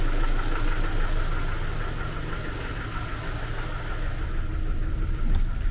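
A ZAZ Tavria car engine idles at very low revs, giving a steady, close, rough mechanical rumble with a faint knocking texture and no speech.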